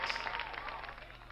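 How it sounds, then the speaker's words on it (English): Audience applause after a hip hop performance, a dense, steady wash of many hands clapping that stays fairly soft and even for its short length. "Ladies and gentlemen, clap it up."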